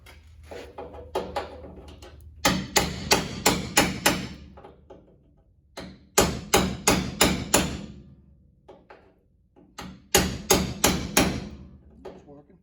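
Metal body panel on a 1969 GMC truck struck with a hammer, close and loud, in three bursts of about five or six rapid ringing blows separated by short pauses, with a few lighter taps in between.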